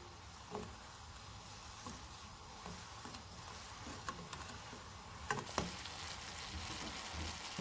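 Falooda jelly mixture stirred in a pot on the stove, soft sizzling and bubbling with scattered light scrapes and taps of the spoon, low and steady with a few sharper clicks.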